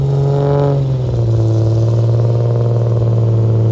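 A modified Toyota Supra sleeper build with a stock transmission revs loudly up close, its engine note climbing briefly and then settling into a steady, rough idle-like drone.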